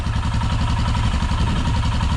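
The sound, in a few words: Royal Enfield Himalayan idling with Red Rooster exhaust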